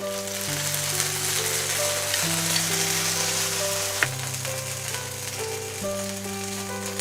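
Adai dosa fries in oil on a pan with a steady, close sizzle and crackle, alone, under a faint background melody.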